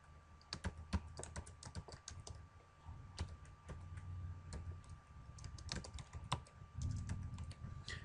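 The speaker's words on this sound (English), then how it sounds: "So right now I'm going to type in a title." Someone types a title on a computer keyboard in a quiet room, producing soft, irregular key clicks in quick bursts over a faint steady hum, with no speech.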